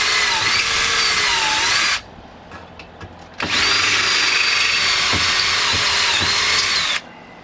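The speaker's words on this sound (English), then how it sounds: "You can use a step bit at any, you can get these at any big box store" A power drill fitted with a step bit bores a hole in an F150 truck, whining in two long steady runs separated by a short pause filled with clicks and handling noise.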